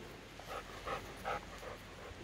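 A shop dog at an RV repair site pants after drinking water, with several quick, soft breaths at a steady rhythm close by and no talking.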